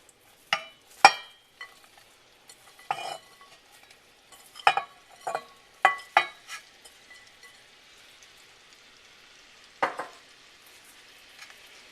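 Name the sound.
onions frying in melted butter in a pot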